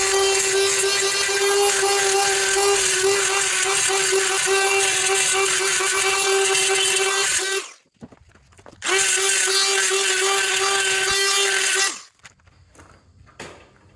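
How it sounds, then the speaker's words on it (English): A die grinder whines loud and steady while touching up welds joining mild steel to cast iron, cutting out briefly, then running again before stopping. "Hate die grinders because shavings go everywhere"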